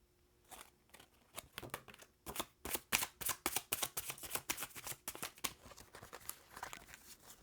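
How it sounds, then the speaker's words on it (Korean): Oracle-style message cards shuffled and drawn by hand during a daily fortune reading, a close run of quick papery riffles, flicks and snaps with no talking. "내가 오늘 꼭 들어야 되는 우주의 메시지 카드 뽑아보도록 하겠습니다"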